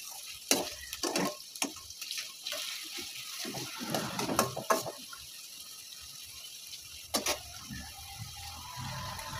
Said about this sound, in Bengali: পেঁয়াজটা কি এরকমই ভাজবে নাকি লাল লাল করে?